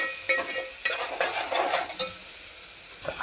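Ginger, garlic, chili and coriander paste being stirred into browned onions in a pan for dal chicken, with soft sizzling and several sharp spoon clinks against the pan spaced irregularly.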